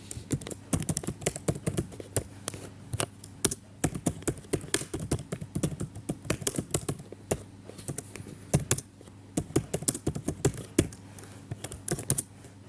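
Continuous clicking of keys on a computer keyboard while a C++ program is typed, steady irregular taps close by with a low hum underneath.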